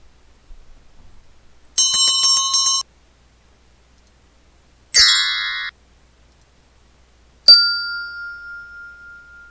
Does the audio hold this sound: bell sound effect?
yes